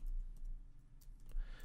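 Computer keyboard typing while writing code, a quick run of soft, light key clicks, close and fairly quiet, lasting under two seconds.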